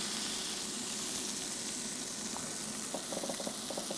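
Scallops searing in a hot pan with butter, a steady broadband sizzle throughout with faint scraping or stirring touches near the end, no talking.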